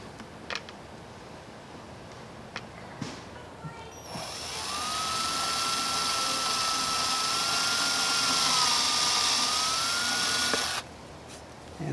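A power drill with a 1/16 inch bit bores a pilot hole into wood on an RV's rear, whining steadily at close range for about seven seconds before stopping, with faint clicks before it starts.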